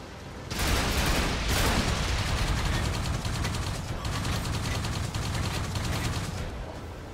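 Tank cannon fire and battle noise from the World of Tanks console game, a sustained loud barrage of gunfire and booms with repeated sharp shots running through the whole stretch.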